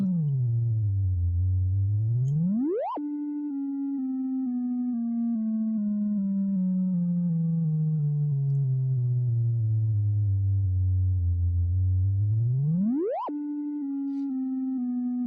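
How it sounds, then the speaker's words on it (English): A pure, steady synth tone from an LFO sine wave modulated by a saw, slowly sweeping down in pitch, then snapping sharply upward and starting the slow descent again, twice over about fifteen seconds. "Every LFO2 outputs a sine wave modulated by a saw."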